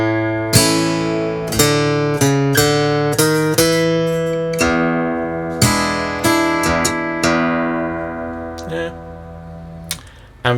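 Acoustic blues guitar playing a bar of a song in fingerpicked style, with steady plucked notes and a bass line ringing in a regular rhythm, close and clear, with no talking.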